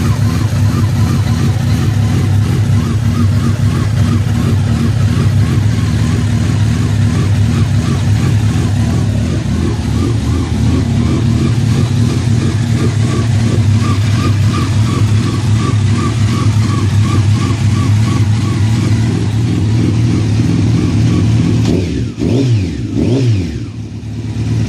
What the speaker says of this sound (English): listen close to the motor here